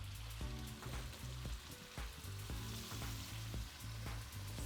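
Minced garlic and canned Campbell's French onion dip frying in a pan, a steady close sizzle with spatula stirring scrapes and soft knocks throughout, no voices.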